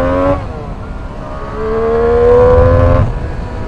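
A Triumph Street Triple 765R motorcycle's engine is revved, its tone rising and holding in pitch before dropping away, loud and close with the rider's voice absent.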